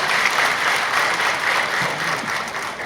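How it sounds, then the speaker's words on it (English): Large audience at an investment summit giving a dense, sustained round of applause, a loud, even wash of many hands clapping together throughout, with no voices rising above it. "Can we have another big round of applause?"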